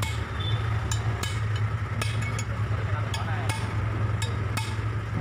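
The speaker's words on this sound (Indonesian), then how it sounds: "sama juga menggunakan betel dan palu." Hammer blows on a chisel against a flywheel ring gear ring out as sharp metallic strikes, about ten irregular hits over a steady low engine-like hum in a workshop.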